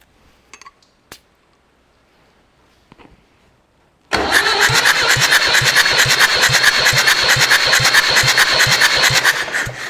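A Massey Ferguson 65 tractor engine cranking over on the starter during a compression test, preceded by a few faint clicks, then a loud, steady rhythmic churning that runs on without firing.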